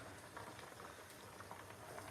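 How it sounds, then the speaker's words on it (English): Eggs boiling in a pot give a faint, steady bubbling and light patter, close by, with no voices. "My eggs are boiling and I have just kept the pan."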